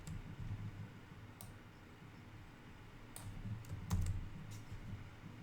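Soft computer keyboard typing while copying and pasting JavaScript code, a few scattered key clicks and taps over a low room hum, quiet and close, no talk.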